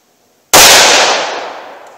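A single sharp gunshot from a .327 or .357 Magnum revolver firing a 110 grain load, a loud instant crack that decays over about a second and a half, with no talk.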